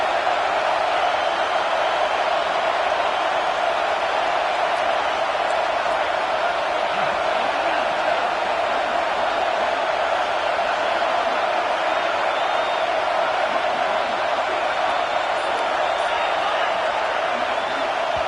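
A stadium crowd in a college football video game cheers on third down, producing a steady, dense roar that holds without letup for the whole stretch while a commentator talks over it.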